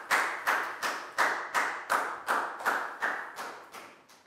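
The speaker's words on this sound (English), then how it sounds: "High five and a big round of applause for Lakgao, please, guys." A classroom of children gives a round of applause, heard as about eleven evenly spaced, fairly quiet claps in a steady rhythm, each fading quickly.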